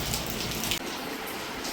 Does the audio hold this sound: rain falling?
yes